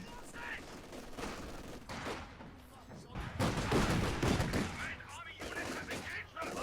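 Semi-automatic SVT rifle fire from Soviet infantry cutting down German grenadiers in Company of Heroes 2, a dense clatter of overlapping gunshots and distant battle noise that swells midway, with a caster talking over it.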